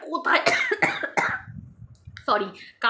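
A couple of sharp coughs break out amid close, lively speech, followed by a low rumbling murmur before talking resumes.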